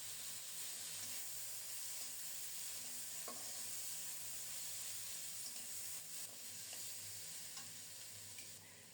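Broad bean seeds sautéing in a spice masala of chili powder over lowered heat, a steady soft hiss and sizzle holding throughout with faint stirring clicks and no talk.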